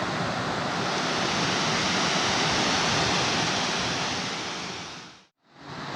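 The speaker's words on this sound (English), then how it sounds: "we found this beautiful waterfall" Large jungle waterfall near Cebu City roars as dense, continuous rushing water, loud and close, briefly cutting out near the end before returning.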